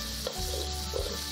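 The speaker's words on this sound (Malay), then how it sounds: "Terus kacau dan pastikan cili kita tidak melekat pada kuali tersebut." Chili being stirred in a hot wok while preparing noodles, giving a steady close sizzle broken by a couple of short scraping stirs, with no talking.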